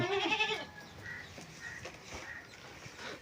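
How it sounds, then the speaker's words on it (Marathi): A goat bleats once, loud and wavering, in a village in Raigad, Konkan, then a few faint high calls drift in over a quiet rustling background. "बकरी"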